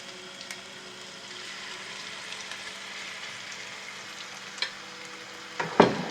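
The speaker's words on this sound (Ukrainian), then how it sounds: "А то вже дуже шкварчить." Kefir pancakes sizzle in a frying pan, a steady soft crackle and hiss, with a few clinks and scrapes near the end.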